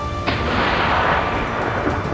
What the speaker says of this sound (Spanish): el disparo rompe el alba como un latido seco